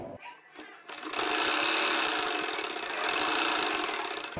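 A sewing machine stitches a baby frock, starting after a short pause and then running in a steady, loud whirring drone that swells slightly midway and carries on to the end.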